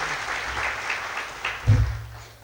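A short burst of scattered clapping from a crowd, fairly faint and distant, swelling briefly near the end.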